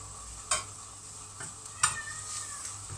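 Chili paste ingredients for a salted fish relish, including fermented soybean sheets and chilies, dry roasting in a pan: two sharp, close stirring scrapes over a faint sizzle, with no voices.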